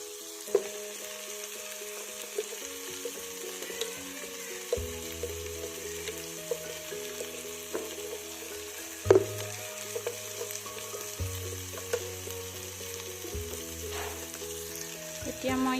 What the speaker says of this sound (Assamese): এতিয়া ভালদৰে ভাজি ল'ম।